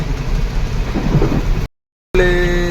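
Dense, hissing downpour for a moment, then a brief cut to silence before a different, steadier tone comes in.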